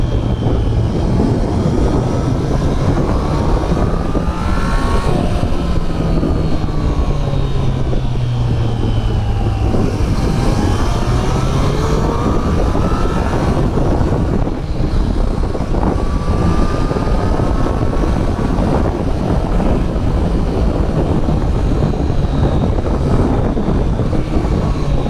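A Triumph Street Triple 765 RS 2023 roadster ridden at speed, its engine note climbing and falling through rising sweeps, then dropping as it brakes hard, all buried under loud, constant wind roar.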